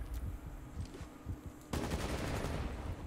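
An airsoft impact grenade bursts abruptly after a stretch of quiet rustling and a few faint taps, leaving a dense crackling, rattling burst that lingers at moderate level to the end.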